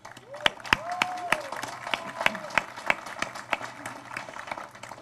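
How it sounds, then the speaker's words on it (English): Scattered hand claps from an audience at a guide dog event, individual sharp claps standing out over a murmuring crowd and a rising tone, fairly close and moderately loud. "all of you guys deserve a round of applause"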